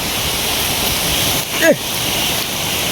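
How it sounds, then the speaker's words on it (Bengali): Heavy rain pours down during a nighttime storm, a loud, steady, close roar of falling water, briefly broken by a short voice in the middle. "প্রচুর পরিমাণে বৃষ্টি"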